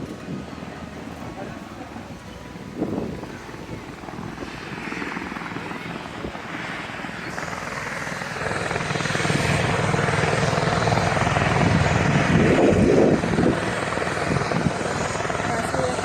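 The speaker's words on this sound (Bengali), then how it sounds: "এই হেলিকপ্টারগুলোকে বলে এয়ার অ্যাম্বুলেন্স।" An air ambulance helicopter at a hospital helipad gives a loud, steady rotor and engine roar that swells louder partway through, with voices faintly underneath.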